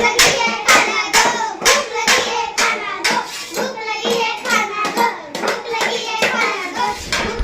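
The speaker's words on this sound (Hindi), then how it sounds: "तीनों चारों एक साथ ताली बजा बजा के मेरा एकदम से पूरा सर भारी कर दिया" Several children clap their hands together in an energetic, fairly steady rhythm of sharp, close claps, continuing throughout in a home setting.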